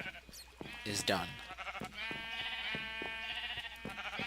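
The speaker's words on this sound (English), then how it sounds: "This sheep farm, this wool farm" Sheep bleat repeatedly on a wool farm in the video game Minecraft, several overlapping baas in a steady rhythm at close range, with someone talking over the start.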